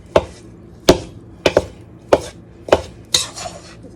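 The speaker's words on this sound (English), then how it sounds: "You just do a crisscross with it, and you cut it into smaller and smaller pieces" Two butter knives cut butter into flour for shortbread in a crisscross motion, giving six sharp, evenly spaced knocks against the bowl with light scraping between them, close and clear, with no voices.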